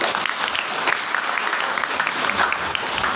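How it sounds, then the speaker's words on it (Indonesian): An audience claps for a speaker at a general lecture event held at an Islamic college, with continuous, dense applause from start to finish at an even level. "Tepuk tangan untuk beliau."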